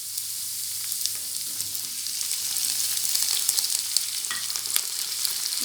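Onions frying in a pan with boiled tomatoes added, a loud, dense, steady sizzle that crackles brighter toward the end, with a few faint stirring scrapes and no talking.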